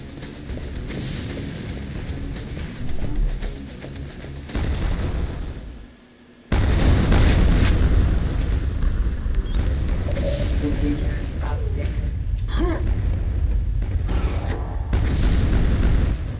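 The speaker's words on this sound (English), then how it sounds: "Bunch of explosions, I hear." Explosions in the video game Quake 2 boom repeatedly, with heavy low rumbling blasts and sharp bursts over a dense mechanical background, loud and close throughout apart from a brief lull.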